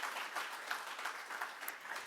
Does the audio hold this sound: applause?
yes